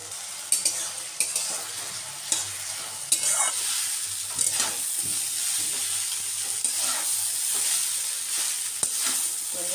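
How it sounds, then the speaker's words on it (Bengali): Boiled chowmein noodles being stirred and tossed in a hot pan, with several spatula scrapes and knocks early on, then a steady, fairly close sizzle and no talking. "বন্ধুরা চাউমিনটা এদিকে মিশিয়ে নিচ্ছি"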